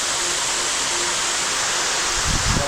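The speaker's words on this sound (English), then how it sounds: "Nice looking waterfall." A waterfall in Bali gives off a steady, dense roar of falling water, loud and continuous, with a faint low thump near the end.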